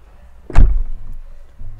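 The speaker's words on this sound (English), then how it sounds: "Soft closing doors, of course" The soft-closing door of a 2021 Mercedes-AMG GLE 63 S SUV pulls shut with a single muffled thump, close by, followed by a faint quiet settle.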